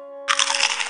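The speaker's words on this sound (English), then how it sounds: "Did you hear that crunching sound?" A cartoon crunching sound effect, a burst of crisp crackly crunches that starts abruptly and runs for under a second over a steady electronic tone, loud and close.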